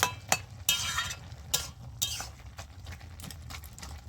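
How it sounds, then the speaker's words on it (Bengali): Red amaranth stem curry being stirred with a spatula in a pan: repeated scraping and clinking strokes in short bursts, close and moderately loud, with no talking. "ভালো করে খুন্তিতে একটু ঘেঁটে দিচ্ছি যাতে তরকারিটা একটু লিটপিটা হয়"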